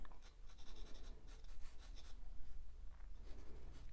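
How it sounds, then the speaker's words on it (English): A pencil drawing over pan pastel on paper, painting autumn leaves, with a steady dry scratchy scribbling that comes in short bursts and pauses, close and fairly quiet. "I'm going to try my pencil on that one."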